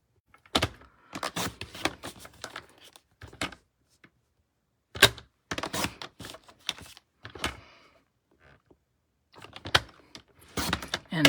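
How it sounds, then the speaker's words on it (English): Stacked sheets of patterned craft paper are sliced into one-inch strips for birthday cards, giving a series of close, crisp cutting strokes in uneven bursts separated by short quiet gaps. "I'm just going to cut some 1-inch strips."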